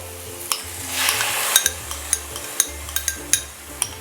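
Minced meat sizzles in leftover anchovy oil with garlic and shallots for a spicy Nyonya chilli pan mee, a low frying hiss under repeated sharp clinks of a utensil stirring against the pan.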